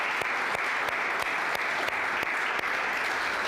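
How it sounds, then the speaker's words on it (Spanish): Church congregation breaks into sustained applause during a sermon, a continuous wash of clapping with a few louder individual claps standing out. "Denle un aplauso si lo cree."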